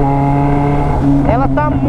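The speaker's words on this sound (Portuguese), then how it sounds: "Que saudade dessa moto solcando" A loud motorcycle engine with only a bare exhaust pipe drones with a steady low hum, then revs up in rising, wavering pitch sweeps near the end, close and prominent.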